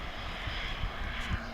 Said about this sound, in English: We've got the Jet 2 that's landed.